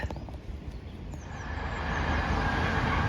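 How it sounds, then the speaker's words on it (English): A train on the London to Brighton main line rumbles past at a distance, a low, steady roar that swells gradually louder, heard from a countryside walking trail with no talk. "That train's going towards London."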